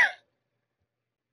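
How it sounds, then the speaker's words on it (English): A single short cough from a streamer, loud and close, dying away within a fraction of a second and followed by silence. "you guys get to enjoy this cough with me"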